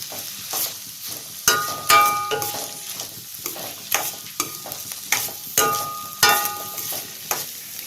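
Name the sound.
onions sautéing in a pan for dried fish thokku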